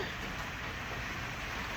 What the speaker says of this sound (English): happy Monday, rainy Monday, rainy Monday in Orlando.